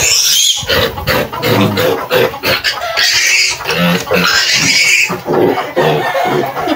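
Pigs on a farm grunt and squeal loudly and continuously, with overlapping oinks and shrill cries close by and an occasional voice mixed in.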